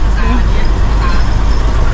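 Loud, steady low engine rumble and road noise fill an intercity bus cabin in Thailand, with a person speaking over the drone.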